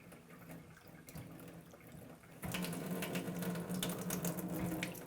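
Electric alkaline water machine runs water from its hose into a cup, a steady splashing stream that starts partway through and grows louder, over a low background hum.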